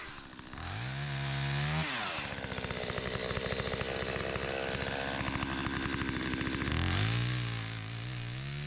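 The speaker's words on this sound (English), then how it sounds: "We'll use a chainsaw for the saplings" A chainsaw cutting vineyard saplings revs up, then runs steadily at high pitch while cutting, its engine buzzing loud and close before dropping back to a rough idle.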